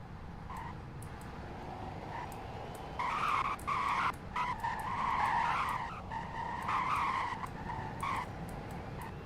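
A 2020 Celestial Type-7 car in the video game Greenville revs and roars steadily while tires squeal and skid repeatedly in bursts, loud and close, with a slightly artificial, game-like quality.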